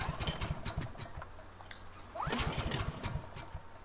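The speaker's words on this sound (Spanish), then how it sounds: "Hay que encender el motor." An engine in The Last of Us Remastered is pulled to start, sputtering with rapid ticking putters, then a rising whir as it catches and chugs louder nearby.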